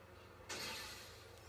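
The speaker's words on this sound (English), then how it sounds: "break every window in the car" A single bright crash of a car window shattering in Grand Theft Auto 5, a sudden burst of glass that decays over a second, faint and fairly distant.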